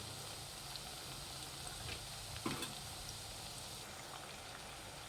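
Chakli spirals frying in hot oil, a steady soft sizzle and crackle of bubbling oil throughout with a couple of faint clinks, heard alone at moderate distance.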